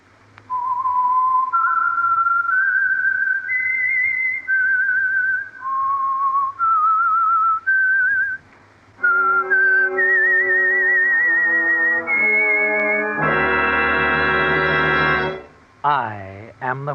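A whistled tune of a dozen or so steady notes opens the Signal Oil radio drama The Whistler, a lone melodic whistle, followed by a swelling orchestral chord and a short closing flourish.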